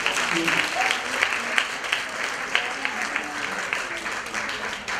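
A conference audience applauds together in a sustained, even wash of clapping in a large room, with a voice faintly audible underneath.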